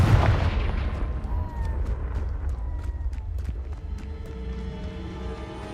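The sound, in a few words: Confringo blasting spell in the video game Hogwarts Legacy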